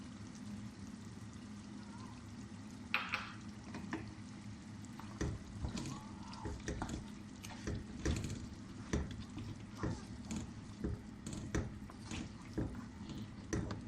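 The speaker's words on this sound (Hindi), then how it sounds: "अब इसमें टमाटर, लहसुन, अदरक का पेस्ट डालेंगे।" Mutton frying in a pot as tomato, garlic and ginger paste goes in for a mutton karahi, with a soft pour, steady low sizzle and scattered stirring clinks and scrapes throughout, fairly quiet and close.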